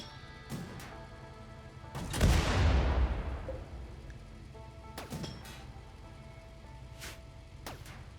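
Weapons fire at a large robot in the RimWorld video game. Scattered sharp shots come through quietly, and one louder sweeping burst stands out in the middle. No voices are heard.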